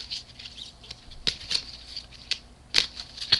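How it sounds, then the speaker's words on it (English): A tarot deck is shuffled by hand, soft papery riffles and flutters with a few sharper snaps of cards, close and fairly loud, with no talking. "And we're shuffling the deck."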